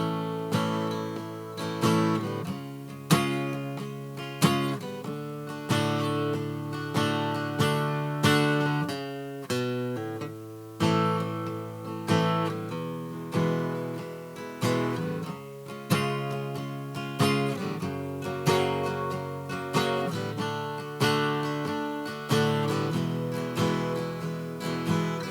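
Acoustic guitar playing the chorus of a song, with steady strummed chords in a regular rhythm and sung melody over them, clear and close throughout.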